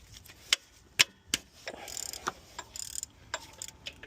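Electric ratchet with a socket on the alternator bolts of a Dodge Dakota, a few sharp metallic clicks and knocks followed by a brief whirring spin and scattered taps, close and fairly quiet.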